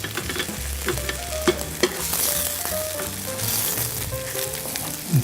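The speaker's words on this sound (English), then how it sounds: "rather than scrambling it, you can either fold it or just turn it over." An egg frying in butter in a pan, a steady loud sizzle with occasional scrapes and taps of a utensil stirring close by.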